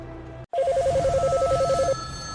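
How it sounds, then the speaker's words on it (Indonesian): A NASA hotline telephone rings as a sound effect: a loud, rapid electronic trill lasting about a second and a half, following a sharp cut and backed by a low background score. "Hotline NASA terus-terusan berdering."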